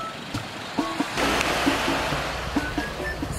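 Sea waves wash along the Izu coast in Shizuoka in a steady broad rush, with faint passing road traffic and light clicks mixed in.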